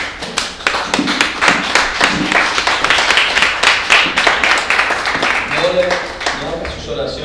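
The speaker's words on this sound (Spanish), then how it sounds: "denle un fuerte aplauso al Señor" A church congregation claps rhythmically and loudly together during a Sunday morning service, the sharp, regular beats carrying on continuously with a murmur of voices underneath.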